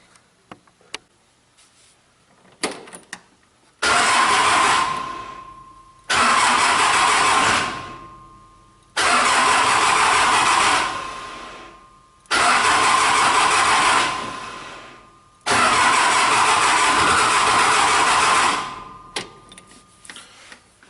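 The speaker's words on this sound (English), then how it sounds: "I'm going to put the start button in now and see how many times it'll start" A Case 580C backhoe's starter cranks in five separate loud bursts of a few seconds each, with a steady whirring drone and short pauses between them, heard up close.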